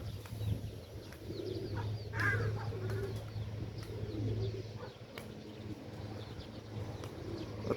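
White, whiskered old-breed pigeons, moulting, give soft low cooing outdoors in strong wind, the calls repeating faintly beneath a steady rush of wind noise.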